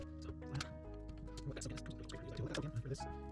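Soap and water being applied to a vintage Super Nintendo game cartridge to soften sticker residue, with soft liquid dabbing and gurgling sounds close by under a steady background hum.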